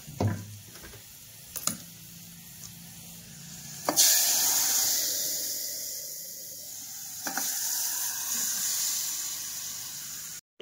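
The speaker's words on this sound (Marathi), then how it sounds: "फोडणीला खाली देणार आहे मी।" Hot oil tempering of cumin, mustard seeds, crushed garlic and turmeric hisses into a strong sizzle, with sharp crackles and pops near the start and a loud, steady fry afterward.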